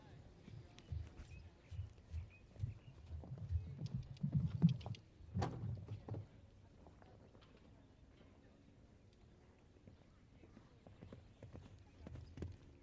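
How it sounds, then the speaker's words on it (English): An 8-year-old gelding's hooves thud over the course in the speed section of a show jumping competition at an adult championship. The muffled, rhythmic beats rise and then fade into quieter ambience. "He's an 8-year-old gelding by Branik Consuelos"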